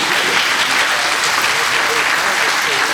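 A conference audience at the Urban Tree Summit 2025 conservation talk breaks into dense, loud applause, a continuous wash of many hands clapping close to the microphone for the full three seconds.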